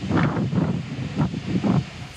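Strong wind buffets the microphone outdoors in Wissembourg, Alsace, France, a steady loud roar with rising and falling gusts, no voices.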